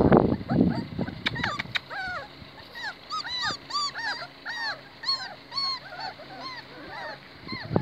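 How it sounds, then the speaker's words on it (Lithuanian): Kishu Inu puppies whimper and squeal in a rapid series of high, wavering cries, close and fairly loud, after a few brief thumps at the start. "Šuniai, šuniai, šuniai."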